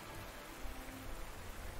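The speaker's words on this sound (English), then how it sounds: "You're probably not going to find them while it's pouring down with rain, though." Pouring rain falls in the Panzer Corps 2 war game, a steady wash of hiss and patter that stays at an even, moderate level throughout with no other sounds.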